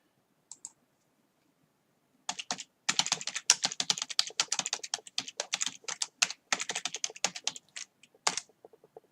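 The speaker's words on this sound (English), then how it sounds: "He is there, he's typing" Rapid clicking of a computer keyboard being typed on, close and crisp, in quick bursts of keystrokes after a brief pair of taps and a short silence, with no voices.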